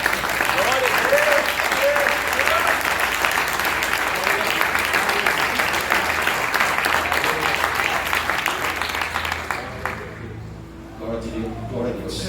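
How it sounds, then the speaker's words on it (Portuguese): A church congregation at a Brazilian Portuguese-language healing-campaign service bursts into sustained, loud applause. The clapping is dense and continuous and fades near the end, with a voice beginning to speak over it. "dar mais uma linda salva de palmas para o Senhor"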